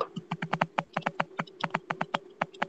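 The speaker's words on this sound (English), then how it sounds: "Who the fuck is typing?" Rapid, irregular clatter of keys on a computer keyboard, with dense close-up taps in quick bursts and no voices.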